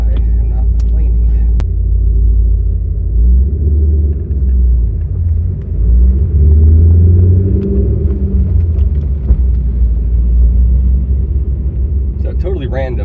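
A Corvette C5 Z06 rumbles steadily from inside the cabin on a night drive, a loud low engine drone that swells briefly mid-clip, with a person talking over it throughout.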